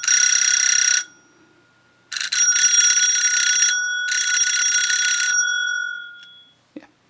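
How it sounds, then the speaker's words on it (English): A Chloride Gent underdome electric bell rings close by in three bursts of bright metallic trilling, the first cut short, the last two longer with brief gaps, then a faint thud at the end. "Will probably make a nice little doorbell."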